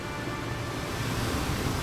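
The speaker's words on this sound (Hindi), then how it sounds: "ये बेमौसम की तेज बारिश हो रही है।" Heavy unseasonal rain pours steadily in cold weather, a dense continuous hiss with a low rumbling wash, close and loud throughout with no voices.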